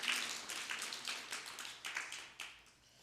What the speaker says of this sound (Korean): 오늘 이 풍성한 은혜에 감사하며 다 같이 박수로 영광 돌립니다.